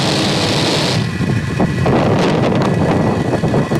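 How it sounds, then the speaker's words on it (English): A SpaceX Falcon 9 lifts off from SLC-4E at Vandenberg on a Starlink Group 2-4 mission, a loud, continuous, crackling roar that swells and rumbles without a break, like rolling thunder. "And liftoff of Starlink 2-4."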